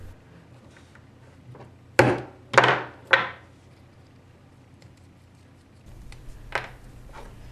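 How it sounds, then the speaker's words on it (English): A hammer strikes a bolt to punch holes through tape-covered MDF, three sharp knocks in quick succession followed by a couple of lighter taps, close and alone. "Here I'm just using a bolt and a hammer to punch out each of the holes"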